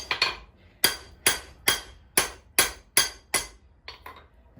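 Hot forged metal for a gambrel is struck on an anvil with about ten sharp, ringing hammer blows at a steady, even rhythm. The strikes are close and clear, with quiet gaps between them and no speech.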